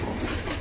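Soft, low throaty cooing from a female pigeon close by, one brief murmuring phrase over faint background noise.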